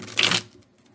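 A deck of tarot cards gets one short, quick riffle shuffle, close and fairly loud, ending in a brief burst of papery fluttering.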